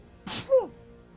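One quick sneeze close by, a sharp breathy burst followed by a short voiced tail, then quiet.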